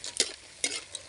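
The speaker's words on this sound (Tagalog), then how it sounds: "haluin lang ganyan." Banana chips are stirred through melted sugar syrup in a pan, with three scraping, sizzling strokes at a steady pace, close and fairly soft.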